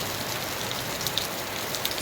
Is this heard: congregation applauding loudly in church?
no